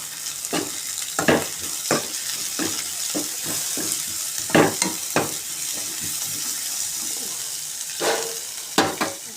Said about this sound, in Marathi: त्यात सगळं असा मक्याचं हे आपण केलेलं सोललेलं हे मक्याचे दाणे टाकूया आणि आता हलवून घेऊया